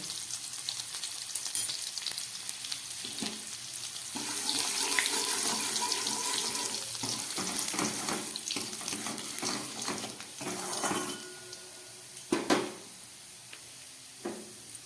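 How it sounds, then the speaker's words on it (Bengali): Chopped garlic drops into hot oil and fries with a bright, crackling sizzle, with a few sharp clatters of a utensil toward the end and no talking. "এবারে এই তেলের মধ্যে আমি দিয়ে দিচ্ছি কেটে রাখা রসুন"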